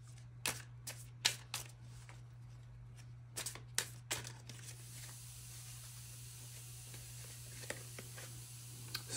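Tarot cards being shuffled in quick bursts of crisp riffling snaps, clustered early and then sparser, over a steady low electrical hum in a quiet room.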